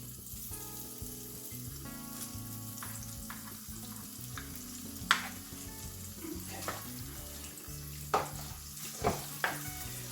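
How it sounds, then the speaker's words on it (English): Handmade lamb mince fries in a karahi with a steady sizzle, while a utensil scrapes and stirs the meat and gives a few sharp metallic knocks toward the end. There is no talking. "And I'm gonna fry this lamb meat."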